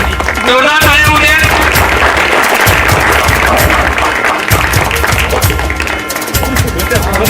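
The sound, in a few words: audience applause at school alumni gathering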